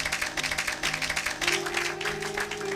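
Applause rises from a church congregation during a Sunday service, many hands clapping in a dense, irregular patter under a held musical tone, moderately loud and continuous.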